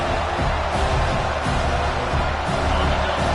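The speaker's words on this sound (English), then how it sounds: "Listen to the crowd energy here in the early going." A large stadium crowd at a football game roars steadily, a dense, loud wash of cheering and voices that holds without a break.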